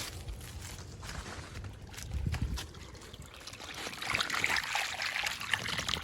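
Water trickles and splashes while freshly picked guavas are rinsed by hand outdoors, a steady running flow that swells louder in the second half, with occasional low thumps and handling noise.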